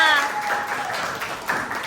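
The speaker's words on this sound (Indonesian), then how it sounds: "Tepuk tangan dulu dong buat kalian semua" A classroom of schoolchildren claps for themselves at the end of a lesson, a brief burst of scattered, lively applause with a voice over it at the start.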